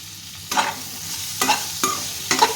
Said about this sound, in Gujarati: પછી આને છે ને ધીમો ગેસ કરી અને સરસ ચડવા દેવાનું